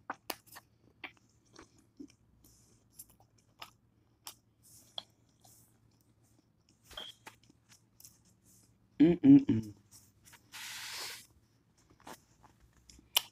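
Chewing a bite of cooked mussel in a seafood boil with shrimp, sausage and potatoes: sparse soft mouth clicks, then a louder burst of wet chewing near the mic, with faint rustling after.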